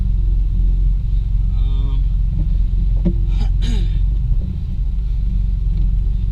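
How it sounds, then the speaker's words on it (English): A 2006 Honda Accord V6 J-series engine with stage 2 cams idles with a deep, steady low rumble, close and continuous, with a faint voice and a few brief clicks over it. "So the idle is a little more loopy, which is fucking awesome. It sounds great."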